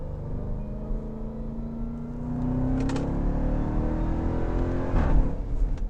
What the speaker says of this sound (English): And when you upshift, you get this ridiculous bark.